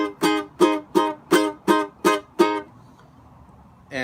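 Guitar strikes seven short, detached staccato chords in an even bouncy rhythm from a song's interlude, each cut off sharply, followed by near silence; close and clear, no voices.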